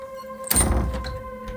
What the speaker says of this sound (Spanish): La puerta del sótano se cerró con un golpe seco.